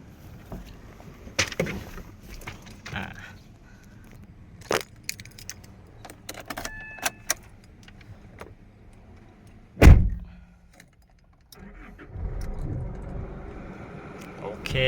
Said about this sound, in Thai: เดี๋ยวมาสตาร์ทรถกันนะครับ